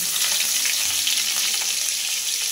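Crushed garlic sizzles steadily in hot oil with fried shrimp and spinach, a constant bright crackling hiss close by with no voices.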